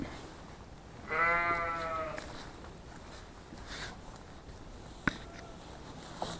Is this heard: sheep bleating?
yes